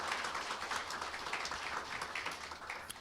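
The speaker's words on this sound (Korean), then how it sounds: "네, 축하의 박수를 보내주시기 바랍니다." A room of staff at a Jongno District Office meeting gives steady applause after an award presentation, with dense, even clapping held at a moderate level throughout.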